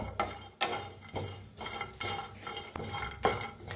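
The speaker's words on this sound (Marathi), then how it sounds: "असं हलवतच भाजून घेऊया" Grated coconut roasting in a dry pan, stirred continuously so it browns evenly, giving rhythmic scraping sweeps of a spoon against the metal roughly every half second, close and fairly loud with no talk.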